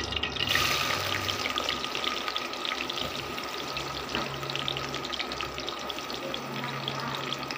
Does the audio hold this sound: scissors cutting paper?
no